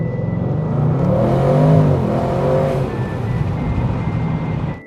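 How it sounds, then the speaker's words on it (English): A V8 engine in an Audi RS6 Performance with an Eventuri intake, revving nearby: a deep, steady drone that climbs in pitch around the middle and then settles back to a lower, even note. "And you want to hear the V8 engine."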